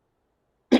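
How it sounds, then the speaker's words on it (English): A single short throat-clearing grunt comes after near silence, brief and close at the very end. "Trying to clear my throat."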